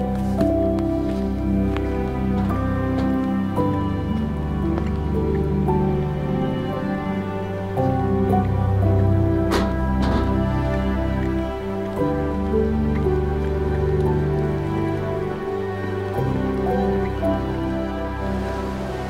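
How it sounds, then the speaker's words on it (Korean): Continuous rushing water flows steadily, like a mountain stream tumbling over rocks nearby on an early-morning hiking trail toward waterfalls, with a constant even wash of sound and no speech. "이른 아침에 물소리를 들으니까"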